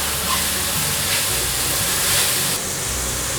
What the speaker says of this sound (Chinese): 现在放入高丽菜丝， 翻炒